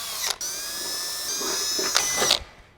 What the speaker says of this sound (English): so that's not a big deal if we just drill one at a time